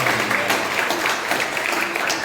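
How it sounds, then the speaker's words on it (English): A room full of people gives a round of applause, steady, moderately loud clapping with a faint voice or murmur mixed underneath. "So I think a huge round of applause for sticking together"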